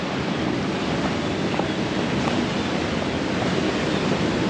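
Waves rolling onto the beach at Tanah Barak in Bali, a constant loud surf wash mixed with wind buffeting the microphone, no voices.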